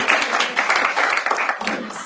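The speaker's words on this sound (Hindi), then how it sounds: "एक बार वैभव के लिए जोरदार तालियां." A studio audience on a comedy game show claps briefly for a contestant, giving a short burst of fairly loud, dense applause.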